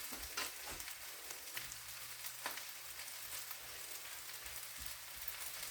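Food sizzling steadily in an old frying pan that tends to stick, with a continuous crackling hiss and a low hum underneath, no talking.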